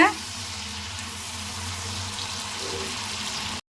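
Three green chilies fry in a pan with a steady, moderate sizzle that sounds close and continuous after a brief louder start, then cuts off abruptly.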